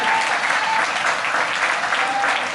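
Dense, continuous applause from a church congregation, clapping loudly and evenly throughout without a break.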